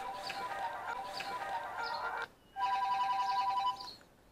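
A telephone rings in a workshop during an electromagnet repair, with two bursts of steady electronic ringing split by a short gap, loud and close with no talk over it.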